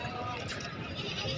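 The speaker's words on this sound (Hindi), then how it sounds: "ये 2 बच्चों की बकरी है जी।" A goat bleats at a busy livestock market, its wavering calls rising over a steady background of crowd voices and market bustle.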